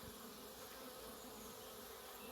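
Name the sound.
honeybees buzzing at a hive entrance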